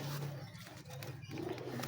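Pigeons coo softly at close range among a low, steady background hum, with no voices.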